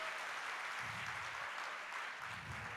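Light applause from an audience at a talk, a faint, even patter of clapping that continues steadily throughout.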